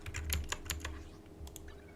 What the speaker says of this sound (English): I love the sound of my keyboard